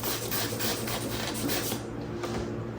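Someone scrubs a greasy Mopar car sill plate with degreaser and a brush while it is screwed down to a sawhorse, producing a steady, close-up rasping rub that continues throughout.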